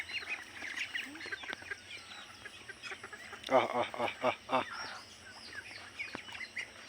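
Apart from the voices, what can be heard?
ducks quacking on a small duck farm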